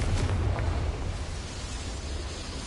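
A Confringo explosion spell effect from Harry Potter bursts loudly at the start, then fades into a rushing, crackling roar that slowly dies away, with no voices.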